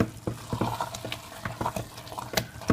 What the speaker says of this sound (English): put in your coconut milk, cream, whatever. Give that a nice stir.